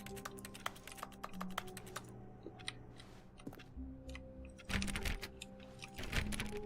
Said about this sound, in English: It sounds like keyboard clicking.